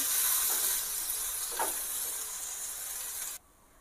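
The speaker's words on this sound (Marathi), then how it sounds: "इथे मी आधी लसणाच्या पाकड्या घालते आता हे इतर साहित्यही त्याच्यात घालून घेऊ आणि हे छान असं स्मूद होईपर्यंत आपल्याला तेलात परतून घ्यायचं आहे" Garlic and masala ingredients sauté in hot oil with a bright, steady sizzle and a brief stirring swell, cutting off abruptly near the end.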